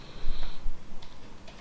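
A command is typed on a computer keyboard in a short run of quick, close key clicks.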